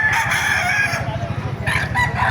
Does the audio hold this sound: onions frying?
no